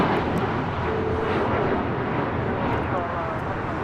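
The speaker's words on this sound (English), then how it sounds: "1712 taking off to San Francisco on a MAX 8" A United Boeing 737 MAX 8 airliner takes off at LAX, a steady, broad jet-engine roar heard from a distance, with a voice talking over it.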